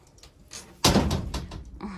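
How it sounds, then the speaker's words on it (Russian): A loud wooden bang as a door slams, followed by rattling and knocking, with faint voices nearby. "Ветер хлопает."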